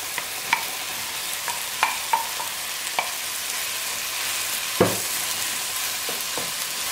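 Onion cooking down in a pan before merlan fish kofta goes in, a soft continuous sizzle with scattered light clicks of utensil against pan and one louder knock near the end, close and without voices.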